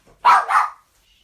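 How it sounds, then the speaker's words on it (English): A dog barks two loud, close yaps in quick succession at someone arriving at the front door indoors, followed by quiet. "sorry, that's my dog."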